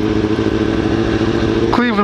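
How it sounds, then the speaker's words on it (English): A Kawasaki H2 motorcycle engine runs loud and steady while riding, holding a strong droning pitch, with a voice breaking in under it near the end. "Man, this bike likes to spin the tires, but that's to be expected with all the horsepower"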